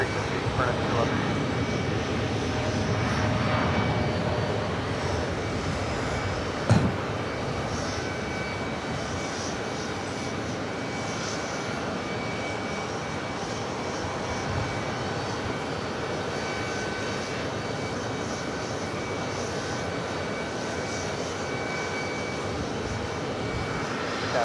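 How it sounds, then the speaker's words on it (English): A KLM jet airliner rolls along the taxiway at JFK airport, its engines a steady, broad roar that holds at an even level, with a single sharp knock partway through and faint radio voices underneath. "we do have KLM rolling down to 22 right"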